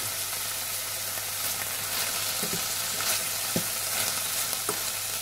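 Asparagus frying in oil on a hot griddle gives a steady, moderate sizzle throughout, with a few soft clicks and stirring knocks near the pan.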